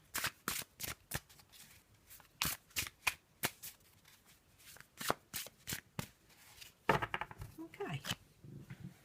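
Soft, close riffling and patting of a Black and White Faulkner tarot deck being shuffled, in irregular quick bursts of card flicks and taps, fairly quiet with a voice speaking briefly near the end.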